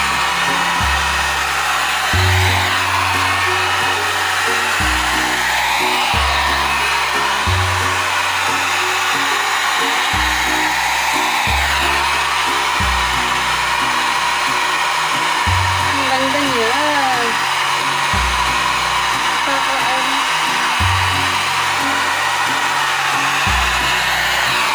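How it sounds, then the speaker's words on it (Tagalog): An Avon foldable hair dryer blows steadily and loudly throughout, a continuous whooshing roar with a low motor hum that shifts slightly in pitch. "Malakas siya guys. Natutuyo agad yung buhok ko."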